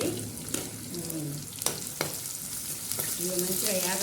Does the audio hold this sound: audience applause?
no